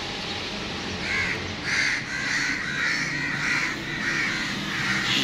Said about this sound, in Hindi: ऊपर सारे कौवे इकट्ठे हो गए हैं